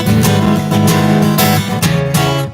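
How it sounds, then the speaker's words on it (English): An electric guitar power chord rings out with the bottom three strings left unmuted, giving a loud, dense, messy strummed sound repeated in quick down-strokes. "because if we didn't mute the bottom 3 strings out with this finger,"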